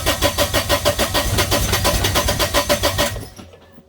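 A Kubota BX23S diesel tractor engine cranking without catching, a loud steady rhythmic churn of the starter for about three seconds that then cuts off and fades, with no voices.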